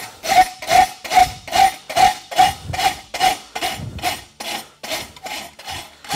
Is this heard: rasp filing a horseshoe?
yes